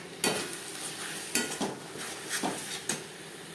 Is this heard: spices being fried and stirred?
yes